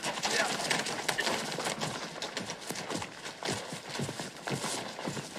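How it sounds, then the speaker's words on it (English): A horse's hooves clip-clop steadily on hard ground in a Wild West setting, with rhythmic close hoofbeats and some background rustle under speech. "you reckon that's Billy the Kid's horse, sure enough?"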